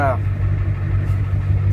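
Steady low truck engine idle, a continuous deep hum close by, with a brief voice at the very start.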